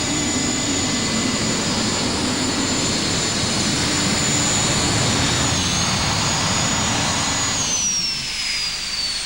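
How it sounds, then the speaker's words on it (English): A Pratt & Whitney JFTD12 turbine engine powering a modified pulling tractor at a championship pull roars with a loud, steady jet whine and rushing exhaust that eases slightly near the end. "this is a Pratt Whitney JFTD 12 turbine engine."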